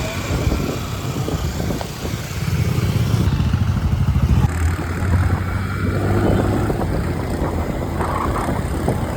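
A motorcycle carries two riders along a road on the way to a family wedding, its engine droning steadily with wind rush and rising and falling revs, close and continuous, with no voices.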